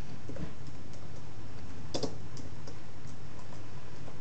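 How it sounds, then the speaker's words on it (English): Slow typing on a computer keyboard, a few sparse, uneven key clicks close by over a low steady background hum, with one sharper tap midway. "Sorry, I'm a slow typer."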